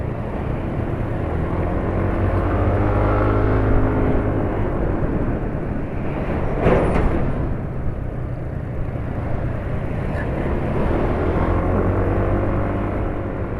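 Honda Vario and Supra motorcycle engines run on a road, a continuous whirring engine drone with the occasional louder pass, heard from the riding position with no talking.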